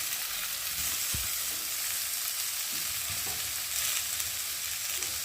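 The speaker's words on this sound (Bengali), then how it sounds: "আর এখন আমি সেদ্ধ করে রাখা কচুটা দিয়ে একটু ভালো করে কষিয়ে নেব" Boiled taro being sautéed in oil with fried spices, a steady close sizzle and crackle of frying with occasional stirring knocks in the pan.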